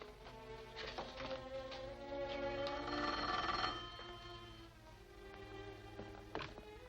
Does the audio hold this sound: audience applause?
no